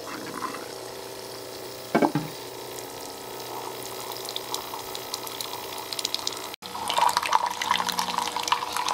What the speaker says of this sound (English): I'm just going to use this and start pushing hot water through here.